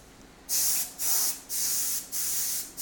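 Four bursts of paint spray-gun hiss while painting a lathe, each about half a second long with short pauses between them, loud and close with nothing else audible.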